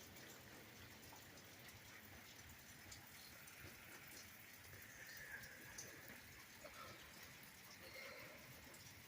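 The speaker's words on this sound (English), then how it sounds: "It's raining really hard over there." Heavy rain falls far off on a cold, cloudy New Year's day in California, a faint, steady hiss of drops with no voices.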